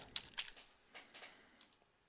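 Quiet keystrokes on a computer keyboard while an email is typed, a short run of soft, uneven clicks close up with no voice.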